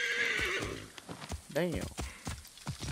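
Horse in Assassin's Creed Origins whinnying with a rising-falling neigh mid-clip, hooves clip-clopping throughout, under a man's speech and game ambience.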